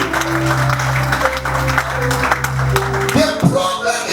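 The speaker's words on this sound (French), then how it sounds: "Clap the hands" A church worship congregation clapping hands together, steady crowd applause blended with music and voices, loud and close throughout.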